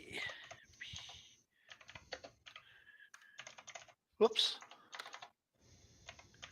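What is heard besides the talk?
typing on a computer keyboard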